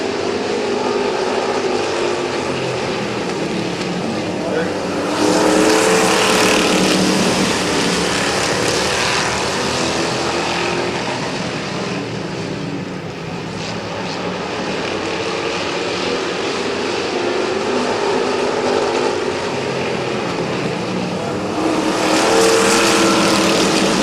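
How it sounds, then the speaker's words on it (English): Street stock race cars take the green flag for a 20-lap feature at Midvale Speedway, a loud, continuous roar of engines that swells as the pack passes, fades briefly, then surges back. "20 lap street stock feature getting ready to go green on turn number 4"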